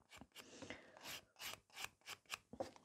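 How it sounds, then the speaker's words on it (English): A nail file scratches a natural fingernail in quick, close back-and-forth rasping strokes, about ten short, soft scrapes in an uneven rhythm, with no talking. "using a nail file, I'm going to give a scratches to my natural nail"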